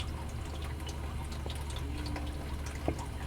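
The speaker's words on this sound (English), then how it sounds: "you can see water is coming out right there" Water flowing into a GE GDF510PSM0SS dishwasher through its inlet valve, a steady soft hiss and trickle with faint drips, quiet and continuous with no talk.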